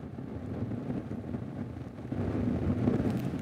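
Wind gusts across a microphone outdoors in cold backcountry winter weather around minus ten degrees, a steady low rushing roar that swells slightly louder toward the end, with no speech.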